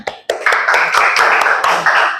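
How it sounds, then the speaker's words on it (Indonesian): A group of students in a classroom claps, with a few sharp onsets followed by a thick, sustained patter of many hands, loud and close. "Terima kasih untuk kelompok 1, beri tepuk tangan."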